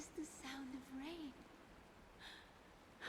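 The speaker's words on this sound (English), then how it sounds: "This is the sound of rain." Soft, steady rain patters faintly in Honkai: Star Rail, a quiet continuous hiss beneath voices speaking.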